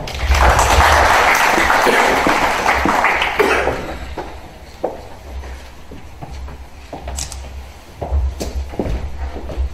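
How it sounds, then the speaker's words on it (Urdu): An audience applauds at a ceremony in Oslo, with loud, dense clapping that dies away after about four seconds, followed by a quieter room with scattered taps and shuffling. "بہت ساری تالیاں ان کے لیے"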